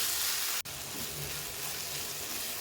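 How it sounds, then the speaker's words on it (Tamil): Roasted gram (pottukadalai) sizzles softly in a hot pan while being sautéed for an idli and dosa chutney, a steady low frying hiss with one brief dip in the middle. "பொட்டுக்கடலை போட்டு ரெண்டே ரெண்டு நல்லா ஒரு வதக்கு வதக்கிட்டு"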